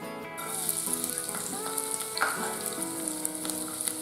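Chopped onions dropped into hot oil in a kadai give a sharp, crackling sizzle, loud and close, with light stirring scrapes and no talking.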